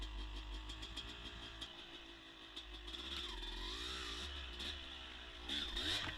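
Dirt bike motorcycle riding woods trails, a fairly faint engine note that rises and falls as the rider eases along, with wavering revs and a slight surge near the end.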